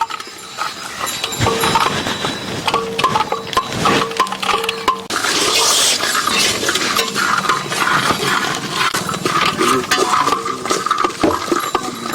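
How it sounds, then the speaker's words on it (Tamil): Raisins being fried in ghee in a hot pan in an outdoor village kitchen: a loud, busy mix of crackling sizzle, metallic clinks and scraping against the pan, continuous and close, with outdoor background noise. "இப்ப நெய்யை ஊத்திக்கலாம். திராட்சை போட்டு வறுத்து எடுத்துக்கலாம்."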